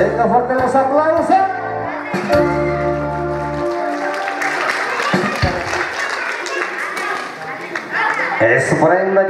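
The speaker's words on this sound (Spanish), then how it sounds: "Venga, fuerte los aplausos." Guests at a quinceañera's fifteenth birthday party in Río Metates, Copala applaud after the last-doll presentation. The clapping swells and holds after a spoken announcement, with festive voices and background noise around it.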